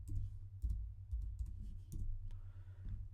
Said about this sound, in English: I'll just type in my website again.